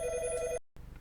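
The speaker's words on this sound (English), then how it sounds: "the phone is ringing." A telephone bell rings loudly and steadily for about half a second before cutting off abruptly, followed by a short silence and then quiet room noise.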